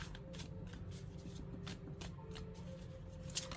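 Tarot cards shuffled by hand, a steady soft riffling and rustling texture with a few brief card slaps, continuing evenly throughout at low volume with no talking.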